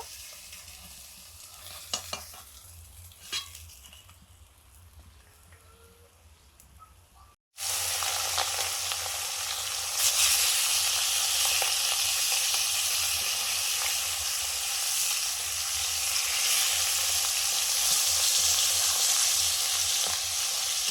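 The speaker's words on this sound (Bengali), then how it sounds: "প্রথমবারে মাছগুলো ভাজা হয়ে গেছে পরের বারে মাছগুলো ভেজে নেব" Fish frying in oil in a pan for a Bengali lunch dish, a quieter sizzle with a few clinks at first, then after a brief cut a loud, dense, continuous hiss and crackle close by for the rest.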